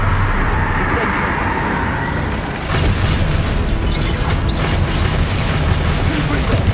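In a Hogwarts video game, an Incendio fire spell lets out a loud, sustained roaring blast, a dense rumbling whoosh that fills the whole clip, with a voice speaking over it.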